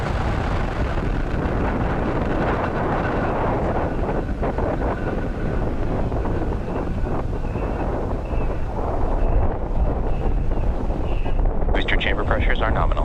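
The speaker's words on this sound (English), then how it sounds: "Engine full power. And liftoff of USSF 67. Go Falcon Heavy." A SpaceX Falcon Heavy rocket lifts off on the USSF-67 mission, its engines a loud, continuous broadband roar that holds steady and swells slightly toward the end.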